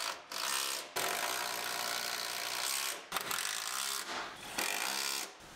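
A power tool drives bolts during interior work on a 2019 Sierra Denali 2500HD truck, running in loud sustained whirring bursts with brief stops between them, close by and with no talk.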